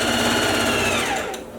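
Domestic sewing machine stitching a seam on a flared skirt, a close, steady mechanical whirr with fast rhythmic needle clatter that slows and stops near the end.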